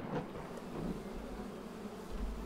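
Bees buzz softly around a freshly placed beehive in the game Spirit of the Island, a steady low hum with a rain-like wash underneath, continuous and fairly quiet throughout.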